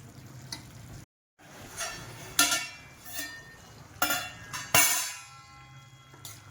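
A vegetable curry, khengat, simmers in a pan with a low continuous sizzle, broken by several sharper clinks and scrapes of a utensil against the pan, fairly close and with no talking.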